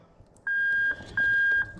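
Car reverse warning buzzer sounding when the reverse circuit of a manual gearbox is bridged: two short, shrill electronic beep bursts, close and loud, separated by a brief gap.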